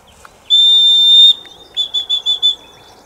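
A loud, shrill dog training recall whistle blows one long steady blast, then five quick short pips in a row, close and clear against quiet surroundings.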